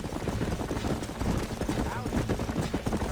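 Horse hooves clip-clop at a steady gallop while riding out after a herd in Red Dead Redemption, rhythmic thuds continuing beneath voices talking.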